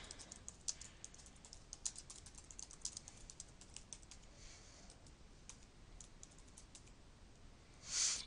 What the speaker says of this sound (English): So now I can go ahead and type in my information.